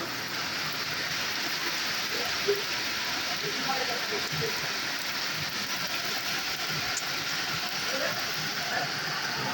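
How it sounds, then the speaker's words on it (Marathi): Steady, dense hiss of heavy rain falling continuously, with a faint murmur of distant voices now and then underneath. "बघा मित्रांनो कसा पाऊस पडतोय"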